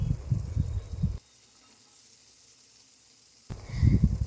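Chopped onion and garlic fry in spiced oil with a light sizzle that stops for a couple of seconds, then returns, close and fairly quiet.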